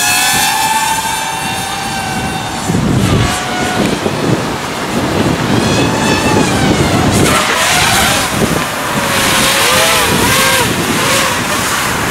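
X210 racing drone with 2600kv motors and 30 amp controllers on a 3S battery doing burnouts, a high whining motor scream with rising and falling pitch sweeps and gritty skidding noise, loud and continuous throughout.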